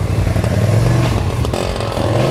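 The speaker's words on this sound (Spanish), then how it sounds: "Dentro de la ciudad la moto se maneja con soltura entre los coches" A KYMCO AK 550 motorcycle engine runs steadily up close in city traffic, a continuous low drone with slight revving and traffic noise around it.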